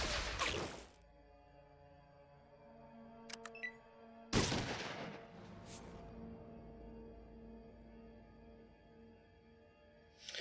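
Pistol fire in the Fallout: Nevada video game: two loud broadband shots about three seconds apart, each with a fading tail. A few faint clicks come between them, and a third burst starts right at the end. No one talks.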